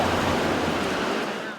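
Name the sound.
ocean waves on a beach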